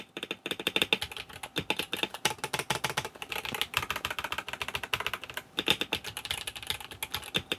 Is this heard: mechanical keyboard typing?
yes